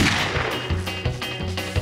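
Gunshots ring out in a Lucky Luke cartoon saloon scene, a few sharp reports in quick succession over a busy soundtrack.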